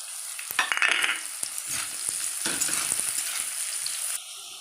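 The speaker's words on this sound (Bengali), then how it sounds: "পেঁয়াজটা হালকা ভাজা হয়েছে" Close, steady sizzling of onions frying in a pan with intermittent stirring scrapes, the frying hiss continuing throughout.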